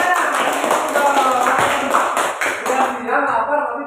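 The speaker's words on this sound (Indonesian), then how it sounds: "Tepuk tangan dulu untuk kelompok." Classroom applause for a student group, a bright burst of many hands clapping together in a steady patter, with voices chattering underneath.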